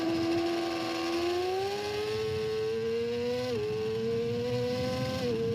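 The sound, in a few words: motorcycle engine revving during lap of TT Assen circuit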